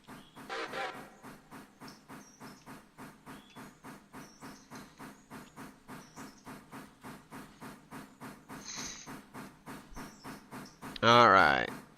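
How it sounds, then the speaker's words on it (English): A train hauled by locomotives 2102 and 425 heading to Reading passes with a steady, rhythmic chuffing exhaust, evenly spaced beats, broken by loud bursts of steam hiss near the start, partway through and at the end. "Y'all can take a look at the 2102 and the 425 that are taking this train back to Reading."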